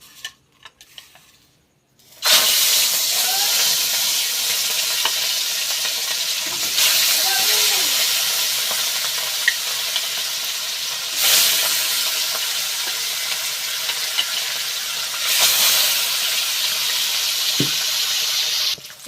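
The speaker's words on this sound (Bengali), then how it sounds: "এবার মাছগুলো দিয়ে ভালো করে লাল লাল করে ভেজে নেব।" Rohu fish pieces dropped into hot oil burst into a loud sustained sizzle after a brief quiet start, with the crackle swelling in waves as the pieces fry.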